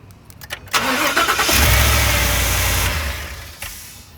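A 2013 Ford F150 Raptor engine cranks with a few quick clicks, then catches and fires, swelling into a loud steady run before easing back toward idle.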